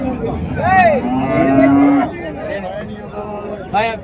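Cattle low several times at a busy cattle market in Uthangarai, Krishnagiri district, with one long, loud moo in the middle and shorter calls before and after, all over steady crowd chatter.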